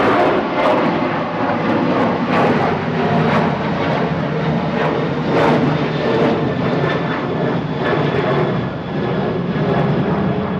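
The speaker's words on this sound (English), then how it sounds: "Right there, 3222 to Brussels Charleroi departing, EI DHG" A Boeing 737-800 departing Manchester for Brussels Charleroi gives a strong, continuous jet engine roar with a thin tonal whine, interrupted by brief sharp clicks and taps nearby.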